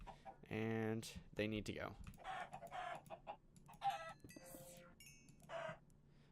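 Minecraft chickens clucking and squawking in a modded Ender IO world, several bursts of harmonic clucks over about six seconds, mixed with keyboard clicks and a brief spoken phrase.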